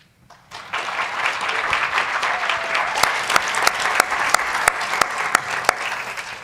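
Audience applause after a candidate's speech at a student presidential election: a brief quiet gives way to sustained clapping from a crowd, dense and even, with a few sharp individual claps standing out.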